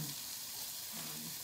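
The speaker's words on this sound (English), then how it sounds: "I'm gonna render the fat out of there" A fatty piece of bacon sizzles in a pan as its fat renders, a steady close hiss and crackle of frying that goes on without a break.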